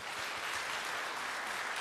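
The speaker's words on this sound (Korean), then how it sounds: "다 같이 박수로 격려하겠습니다." A church congregation applauds steadily and densely at a Sunday worship service, loud clapping filling the room without pause and no voices over it.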